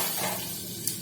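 Steady sizzling and hissing of garlic frying in a pan, continuous and fairly close, with no voices.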